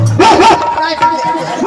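A performer imitates a dog with voiced yips and bow-wow barks, a few quick rising calls near the mic, set amid a lively village stage show with people talking.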